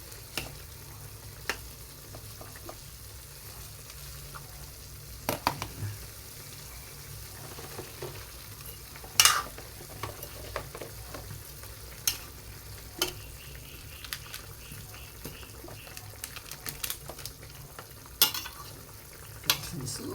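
Fish, okra and cashews fry in a full pan, a steady close sizzle broken by scattered clicks and scraping as the food is stirred.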